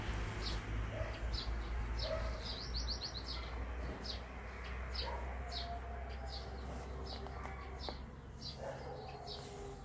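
Dogs bark and howl in the distance around a backyard with flowering fruit trees in Croatia, faint and mixed with steady bird chirping and a low outdoor rumble.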